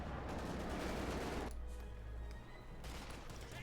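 Dense gunfire in the World War II strategy game Company of Heroes 2, a loud continuous fusillade of rapid shots that thins briefly in the middle and then picks up again, with no voice over it.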